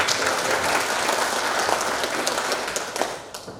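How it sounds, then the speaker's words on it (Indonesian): An audience at a volunteer firefighter inauguration event applauds steadily for a few seconds, a dense wash of clapping that slowly fades toward the end. "Kita kasih tepuk tangan."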